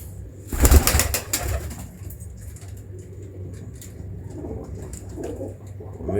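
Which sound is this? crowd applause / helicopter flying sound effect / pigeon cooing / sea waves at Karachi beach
pigeon cooing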